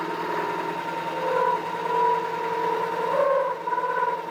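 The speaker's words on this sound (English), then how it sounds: "I'm using an end mill to countersink." An end mill spins in a milling machine while it countersinks a part for a 6x48 belt sander build, giving a steady whirring tone with a few shifting pitches as the cut goes on.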